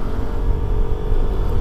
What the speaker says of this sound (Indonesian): yang saya suka di mesin Vespa GTS 150 ini adalah suara mesinnya itu loh